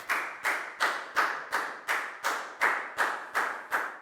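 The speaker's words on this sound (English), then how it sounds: "High five, big round of applause for Down, please, guys." Classroom clapping for a student comes as a single steady rhythmic clap repeated about ten times, evenly spaced and fairly close, with no talking.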